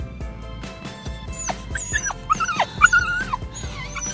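Excited puppy whimpering and yipping in a car on the way to the dog park, a series of high, wavering whines rising and falling close by, interspersed with short yips.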